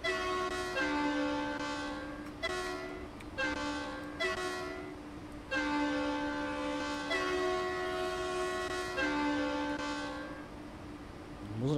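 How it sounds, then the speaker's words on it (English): An ICE 3 high-speed electric train horn in Train Sim World 4 sounds in several long, loud harmonic blasts separated by short gaps, ending in a sustained tone. "the sound of the ICE3's horn"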